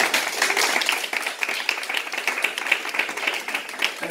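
An audience claps in applause for an evangelist at a French-language religious gathering, a steady and fairly dense patter that holds for the whole stretch without anyone speaking.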